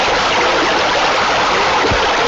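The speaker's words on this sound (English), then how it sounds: "all the way from the bottom to the third step with a waterfall" Water spills steadily from a waterfall feature in a raised backyard pool with a raised spa, a constant broadband splashing rush that stays even and close throughout with no voices.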